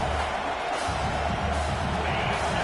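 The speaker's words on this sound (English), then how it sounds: "Listen to the crowd energy here in the early going" A steady, dense roar from a stadium crowd at an NCAA college football game, a broad wash of voices that stays loud and even throughout with no clear individual cheers.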